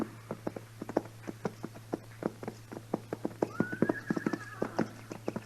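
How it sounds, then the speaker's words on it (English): Steady clip-clop of hooves as horses walk, a regular rhythm of sharp knocks close by, with a horse whinnying partway through over a low hum. "Mr. Dillon, what do you figure them horses are doing down there?"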